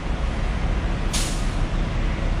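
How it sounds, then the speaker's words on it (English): A brief sharp hiss of air brakes releasing on an MT3 city bus beside a stadium in Macau, heard against steady, loud street traffic rumble. "MT3 bus."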